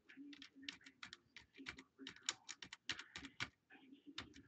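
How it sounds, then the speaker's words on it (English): Quick, irregular clicking of computer keys as text is typed into a Firefox bookmarks folder name field. The clatter is close and fairly quiet, in uneven bursts with short pauses. "I'm gonna type in"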